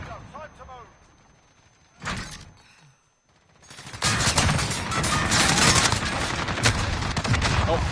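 Gunfire from a Call of Duty-style first-person shooter, with a Chopper Gunner in play, bursting out loud and dense in the second half after a quieter stretch with a brief shot or impact, all close and overlapping.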